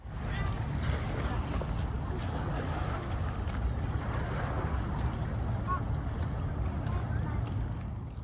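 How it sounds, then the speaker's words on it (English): Waves churned up by a passing ferry boat splash steadily against a waterfront, captured on a phone as a continuous, loud wash of water with gusting wind noise. "the water is up on it, and the waves were splashing because a ferry boat had come through"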